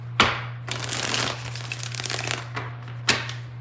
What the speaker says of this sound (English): Let's get 6 shuffles.